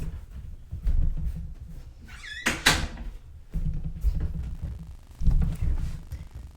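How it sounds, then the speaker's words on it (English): A door swings shut with a sharp thud in a home setting, preceded by a brief squeak, with shuffling movement and low room noise around it. "I gotta close my door"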